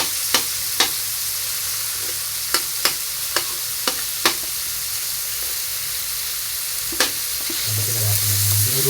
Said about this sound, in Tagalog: Tapos ilagay natin ng isda nga. Pakulong na natin itong sabaw na.